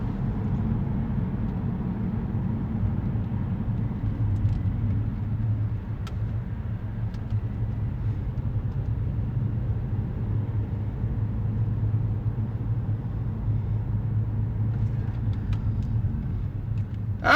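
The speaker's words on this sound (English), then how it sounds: "And now I'm in unnecessary traffic." Steady low road rumble of traffic heard from inside a car at night, a continuous muffled drone with no talking.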